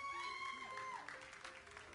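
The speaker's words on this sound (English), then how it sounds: "Let's give him another round of applause." Audience applause fills a room at a television news awards ceremony, a steady wash of clapping that holds across the clip with a few sustained tones ringing over it.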